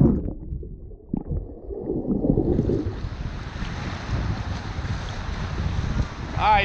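Rough ocean surf breaks at Panama City Beach, a steady, loud wash of waves mixed with gusty wind buffeting the microphone, with brief voices near the start.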